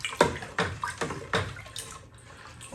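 Homemade strawberry wine mixture being stirred in a brewing container, giving repeated sloshing, swirling liquid strokes roughly every half second, close and moderately loud, with no talking.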